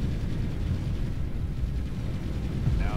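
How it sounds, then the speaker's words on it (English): A big explosion in the real-time strategy game Ground Control II, with a deep, sustained rumbling roar that fills the whole three seconds at steady loudness and no talk over it. "Now that's an explosion."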